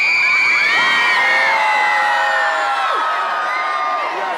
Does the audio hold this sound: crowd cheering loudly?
yes